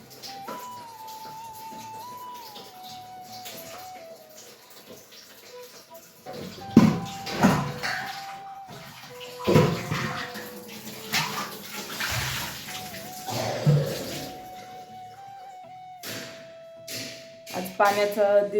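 Water splashes and runs in bursts while pots are scrubbed, with clinking and a steady tonal hum underneath, close by.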